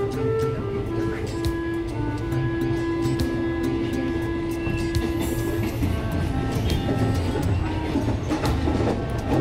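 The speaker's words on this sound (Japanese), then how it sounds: "貨物列車はかなりゆっくり走っており" Steady rumble and rolling clatter of a slow-moving JR freight train with an EF66 locomotive, heard close and continuous, with a sustained tonal hum running through the first part.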